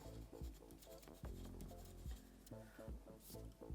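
A pen or pencil writes by hand on paper, close and soft, in short scratching strokes with brief pauses between words.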